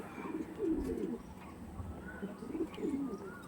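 Pigeons coo in low, throaty rolling phrases, two clear bouts repeating over steady background hum, moderately close; these are a pair of prized, high-quality show pigeons with a broad-chested, wide-winged build.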